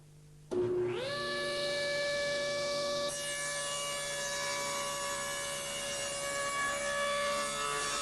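A table saw cuts the cheek of a wood joint with a jig in one pass, starting with a sudden loud whining hum that stays steady and sustained as the blade runs through the wood, with no talking.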